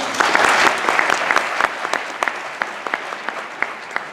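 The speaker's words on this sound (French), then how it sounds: "Une dernière fois d'applaudissement pour nos invités spéciaux" An audience at a Fantasia 2013 film festival screening applauds, starting as dense, full clapping and thinning out into sparse individual claps.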